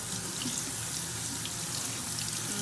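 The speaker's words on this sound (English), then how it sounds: "Cold water is running a little bit." Cold water runs steadily from a kitchen tap into a sink, a constant close splashing rush with no talk over it.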